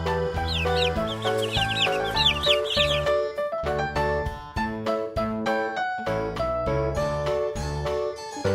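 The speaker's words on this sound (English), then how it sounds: "Chicken." A chicken clucks in a quick run of sharp calls, played as an animal sound over loud, steady background music for children.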